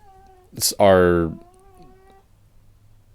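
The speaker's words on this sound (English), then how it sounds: "My cat's making a weird sound." A pet cat lets out one loud, drawn-out, odd-sounding meow after a brief sharp noise, close and clear, with a quiet voice talking in the background.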